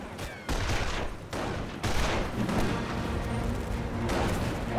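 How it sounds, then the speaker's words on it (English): Rifle fire crackles through a Company of Heroes World War II battle at Carentan, a dense, continuous fusillade of overlapping gunshots with heavier booms mixed in, loud and close throughout. "Taking rifle fire!"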